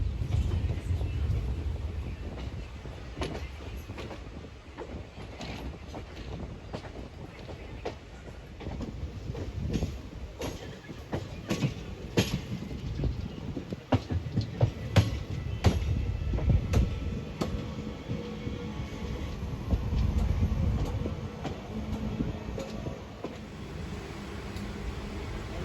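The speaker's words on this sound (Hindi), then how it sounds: "ट्रेन अपने फुल स्पीड में है और पूरा का पूरा कोच अभी खाली पड़ा है" Inside a coach of the Begumpura Express 12237 at full speed, a continuous loud rumble carries repeated sharp rail clacks and rattles at an irregular rhythm.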